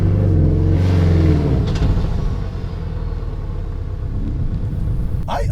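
A manual Porsche 718 Cayman S engine revs with a deep grumbling tone, swelling loudly at first and then easing into a steadier, throaty rumble near the car.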